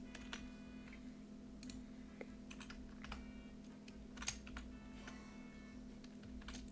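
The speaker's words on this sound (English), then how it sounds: "I'm very slow at typing" Slow, uneven typing on a computer keyboard, soft clicks scattered in short bursts over a steady low hum, fairly quiet and close.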